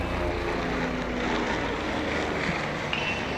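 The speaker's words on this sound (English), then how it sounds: "There goes the helicopter overhead." A helicopter flies overhead during a college baseball tournament game, heard as a steady, broad rumbling drone that holds at an even level throughout with no talking.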